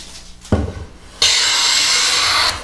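A hand plane drawing a thin wood shaving: a short scrape, a brief pause, then a steady, loud hissing swish lasting more than a second, close by with no talk.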